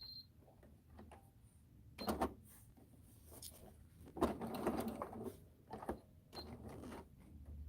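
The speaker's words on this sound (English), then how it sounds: "then we're going to top stitch." A sewing machine top-stitching in a home sewing room runs in several short bursts separated by quiet pauses, heard close and fairly soft.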